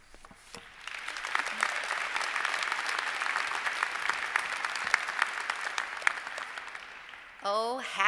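A commencement audience at the Harpur College of Arts and Sciences class of 2017 ceremony claps in sustained, dense applause that builds quickly and holds steady, then gives way to a voice at the end.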